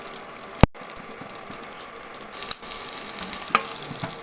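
Green chillies sizzle and crackle steadily in hot oil in a pan, with a sharp clatter near the start and the frying growing louder and brighter partway through, no voices present.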